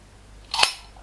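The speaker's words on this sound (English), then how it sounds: "there is something else very unusual about this camera. It is the shutter." A single crisp click from the shutter of a Purma Special camera fires once, sharp and close, in an otherwise quiet room.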